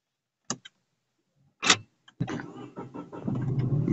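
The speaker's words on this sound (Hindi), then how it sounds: "गाड़ी ऑन कर ली है मैंने" A car engine is started after a couple of short clicks and a brief cranking burst, then settles into a steady, rising rumble that fills the rest of the moment.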